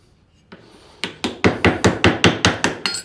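A chisel knocked against nails to pull them from wood, about a dozen sharp, evenly spaced strikes that grow louder, close and dry with no talk.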